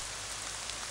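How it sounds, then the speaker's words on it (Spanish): Steady hissing rain falls indoors, inside a room in the video game Ib, a dense even patter that sounds close and continuous with no voices over it. "Ha empezado a llover, qué raro."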